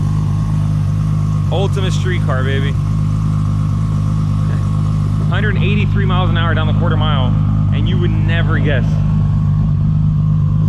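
A Toyota Supra drag car with full exhaust idles with a steady, loud engine drone throughout while someone talks over it.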